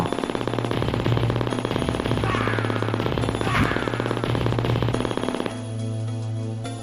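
Rapid gunfire from an arcade beat-'em-up, the Cadillacs and Dinosaurs hack crossed over with Metal Slug, rattling as a dense continuous burst over looping game music, loud throughout and shifting to a steadier tone near the end.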